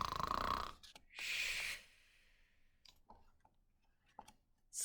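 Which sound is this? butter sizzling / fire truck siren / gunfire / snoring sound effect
snoring sound effect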